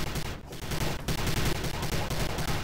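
Rapid bursts of gunfire from the sci-fi shooter Prey, loud and continuous with repeated sharp shots over dense battle noise, no voices.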